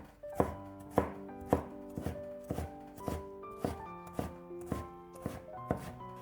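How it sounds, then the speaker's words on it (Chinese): A knife chops bitter melon into small dice on a cutting board, with about ten sharp, evenly spaced thuds that ring slightly. The blows are close and loud, and nobody speaks. "再将苦瓜放在案板上，先给它切成薄片， 再改刀切成小丁"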